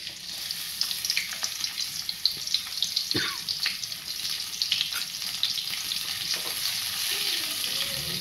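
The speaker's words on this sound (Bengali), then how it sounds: "সুন্দর করে ভেজে নিচ্ছি। দেখুন লাল করে পেঁয়াজটা আমি ভেজে নিব।" Chopped onions sizzle steadily in mustard oil in a pan, a close, continuous hiss with occasional scrapes of stirring and no talking.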